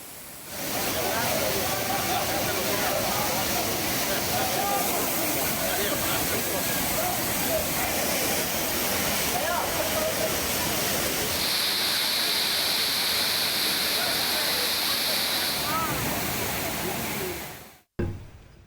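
Swollen Chinnasuruli waterfall in Theni district pours in flood after continuous heavy rain, a loud, steady broadband roar of rushing water sustained for about eighteen seconds before cutting off abruptly.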